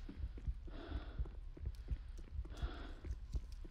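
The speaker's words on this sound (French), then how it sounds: "Oh, j'entends des battements de cœur." Heartbeat in a CS:GO horror map set in a manor, a steady, muffled double-thump pulse repeating about every half second, quiet and low under ambient game hum.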